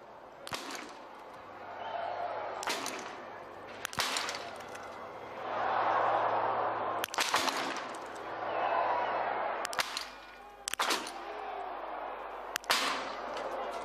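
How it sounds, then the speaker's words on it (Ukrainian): Sharp biathlon rifle shots crack out one at a time at irregular intervals on the shooting range during a men's 10 km sprint World Cup race in Oberhof, over a commentator talking and a murmuring crowd in the background. "Мартен Фуркат паралельно стріляє"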